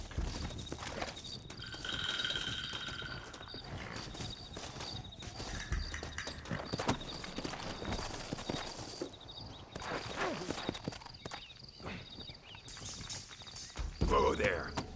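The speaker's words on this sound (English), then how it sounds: "Looks like Carlos left us some horses." Horses clip-clopping at a trot in the Western game Red Dead Redemption, steady hoofbeats running under game music and a voice, with a louder thud near the end.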